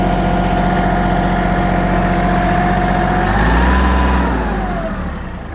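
A Kubota GL19 mini tractor's small three-cylinder diesel engine idles steadily up close, rising briefly in pitch for a moment before settling back down; no voices.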